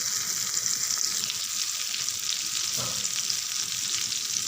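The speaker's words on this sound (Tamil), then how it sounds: "நல்ல மணமாக இருக்கும் மீன் பொரிக்கும் போது." Fish frying in hot oil with curry leaves in a pan, a loud continuous sizzle and crackle close up, with a brief stir or shift partway through.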